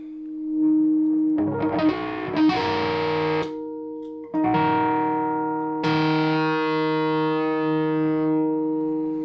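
Distorted electric guitar chords through a Caline CP-15 Tantrum boost and distortion pedal ring out in several loud bursts, thick and saturated with long sustain and a gap between phrases.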